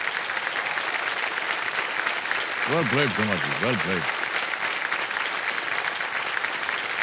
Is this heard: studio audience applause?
yes